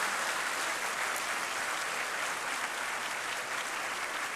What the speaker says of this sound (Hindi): माँ के नाम पे भी जोरदार तालियां होनी चाहिए।